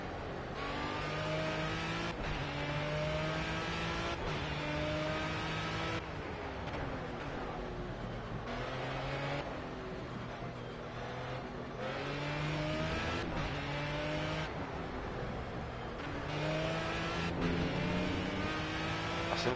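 A race car engine in the racing game Project CARS revs continuously, rising and falling through gear changes with a steady, loud drone, occasional shifts and faint tire noise, with no talk.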